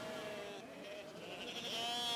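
Sheep introduced from Europe bleat on the parched Australian plains, several overlapping wavering calls carrying over a steady outdoor background, moderately near and fairly loud.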